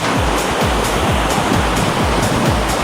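Ghogata waterfall roars close and loud, a dense, unbroken wash of falling water with a low rumbling churn underneath and no voices.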